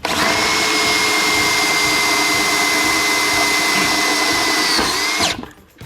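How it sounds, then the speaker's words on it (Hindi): A Bosch GSB 18V cordless impact drill driver set to second gear drives a self-tapping screw into a 6 mm steel block, a loud, close, steady motor whine that runs for about five seconds before cutting off. "तो अब हम इस 6 mm के स्टील ब्लॉक में ट्राई करेंगे ये सेल्फ टैपिंग स्क्रू जाता है या नहीं"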